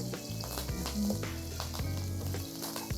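Kampachi fish frying with thyme in a hot pan gives a steady, close, loud sizzle with crackling bursts throughout.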